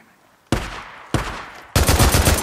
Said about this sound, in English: Shoot the assholes!